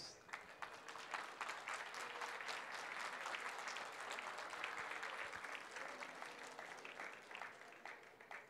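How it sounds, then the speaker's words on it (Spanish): A crowd at a collective wedding ceremony applauds a couple, a fairly faint, distant wash of many hands clapping that holds steady and then eases off toward the end. "El aplauso"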